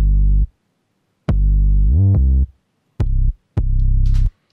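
A wider lead bass synth with a punchy, sharp attack plays four notes separated by gaps. The second note rises in pitch partway through, and the final note holds longest, with a bright shimmer over it. No talking.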